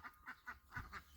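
Roan and Swedish Blue ducks quacking, about five short nasal quacks in quick succession, faint and somewhat distant.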